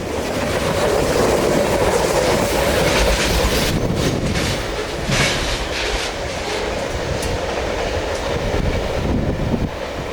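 A Norfolk Southern 25A manifest freight train passes close by on the CNO&TP line, with a loud, steady rumble and rolling clatter of railcars filling the whole stretch and no talking.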